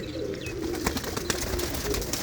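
A female pigeon at a Punjabi loft coos in a steady low, throbbing run, close and fairly loud against a busy background with faint clicks and movement.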